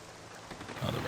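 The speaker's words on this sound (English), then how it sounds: "Oh, the rain's back." Rain in the video game Morrowind hisses as a soft, continuous wash of noise, getting slightly louder toward the end.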